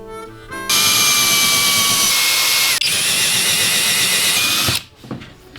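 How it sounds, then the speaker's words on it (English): A power drill whines loudly and steadily for about four seconds with a brief hitch midway, then cuts off, leaving quiet room noise. "How many drill bits do you think it's okay to go through in a day?"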